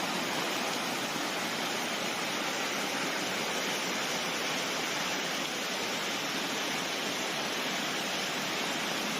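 Floodwater rushes through the streets of Fenghuang Ancient City in Hunan after a river overflow, giving a continuous, dense roar with no break, like a broad torrent heard close.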